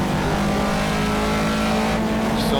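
BMW M1 ProCar racing in the Project CARS video game: a loud, steady engine roar at high revs that rises slightly in pitch at the end, with no voices.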